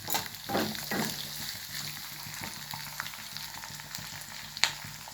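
Green chillies frying in oil give off a soft continuous sizzle with light stirring scrapes and a sharp clink near the end. The sound stays close and quiet, with no voices.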